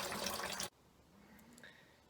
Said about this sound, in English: I've poured out a little bit of the sweet wort